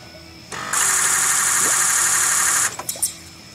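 A Powerstroke 6.0 diesel engine in a pickup is cranked by its starter for about two seconds: a steady, loud, whirring buzz that starts abruptly and cuts off without the engine catching, followed by a few faint clunks.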